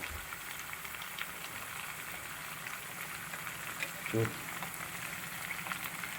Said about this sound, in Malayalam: നന്നായിട്ട് തിളച്ച് വരുന്നുണ്ട്